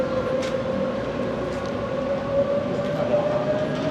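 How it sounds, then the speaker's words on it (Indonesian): Train running on rails in Kuala Lumpur, heard from inside the carriage as a steady, loud rumble with a sustained tonal whine throughout. "Balap juga nih kereta."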